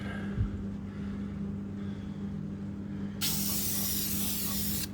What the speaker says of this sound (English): a can of engine black